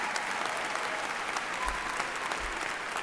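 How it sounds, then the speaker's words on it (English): A large audience at a SUNY Oswego graduation ceremony gives sustained, dense applause, a steady roar of many hands clapping throughout with no speech over it. "Let's have a round of applause for her."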